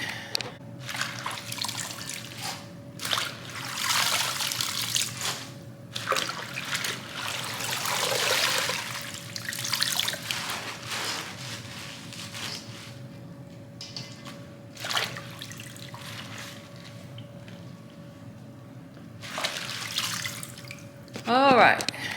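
Water draining out of a kitchen sink, a steady trickling, gurgling wash heard close up, with a person talking over it now and then throughout.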